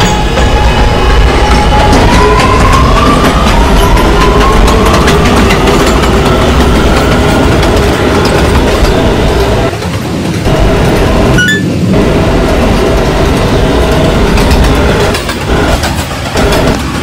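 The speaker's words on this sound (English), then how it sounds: "This is a 207th Street bound A train." R211A A train on a local run from Far Rockaway to 207 St in the Roblox game Transit, a loud steady motor hum and rail rumble with rising whine tones and a couple of brief dips, no speech.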